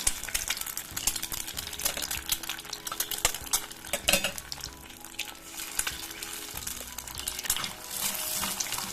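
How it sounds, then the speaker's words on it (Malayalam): Beaten hen's eggs fry on low heat in a pan while being stirred, giving a steady soft sizzle with scraping and clinking of a utensil against the pan throughout, near and without talk. "ഇനി പതുക്കെ ഇതൊന്ന് പൊരിച്ചെടുക്കണം, എല്ലാവടെയും ഒന്ന് ചേർത്ത് ഇളക്കിയിട്ട്"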